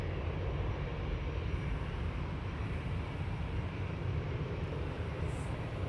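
A Lufthansa airliner departs Amsterdam Schiphol Airport bound for Munich, its engines a steady, broad roar that holds level throughout at a moderate distance.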